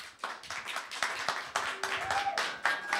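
A crowd claps for a band at the end of a live show. The applause comes as dense bursts of hand claps, with talking and voices mixed in.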